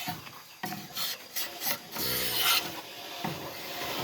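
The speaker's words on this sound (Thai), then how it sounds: "ค่อยๆขูดเอาแค่เอาถ้า มันจะมีไฟเบอร์เหล็กอยู่นะ ถ้าเราไม่ขูดผิวออกนี้ มันเราจะทาน้ำมันป้องกันมอดไม่ได้นะครับ" A steel scraper shaving the outer skin off bamboo at a bamboo training workshop, producing loud, close, rasping strokes in quick repeated bursts, with brief gaps between pulls and no talking.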